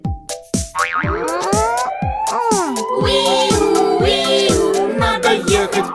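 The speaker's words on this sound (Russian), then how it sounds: "Это сирена, посмотри." A cartoon fire engine siren wails in a children's song, with rising and falling sweeps riding over a bouncy, evenly pulsing beat.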